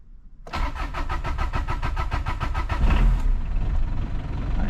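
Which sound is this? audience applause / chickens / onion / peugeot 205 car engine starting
peugeot 205 car engine starting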